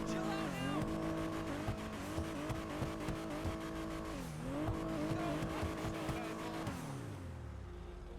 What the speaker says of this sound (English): let's go ahead and rev it up here and do that sound test